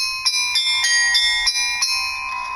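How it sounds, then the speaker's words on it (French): Bright synthesized carillon bells made in GarageBand chime in a quick sequence of strikes, each ringing with a clear metallic tone that overlaps the next. "Ça peut faire des beaux carillons."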